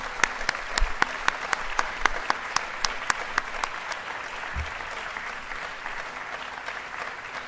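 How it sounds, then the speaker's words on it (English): Audience applause at a public schools awards ceremony, sustained even clapping from a hall full of people with a few sharper, louder claps standing out near the start, continuing steadily throughout. "Let's give them a round of applause."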